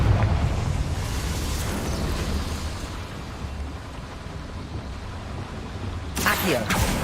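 A Confringo blasting spell goes off in Hogwarts Legacy as a long, loud, rumbling explosive roar that slowly fades, followed by a brief crackling burst near the end.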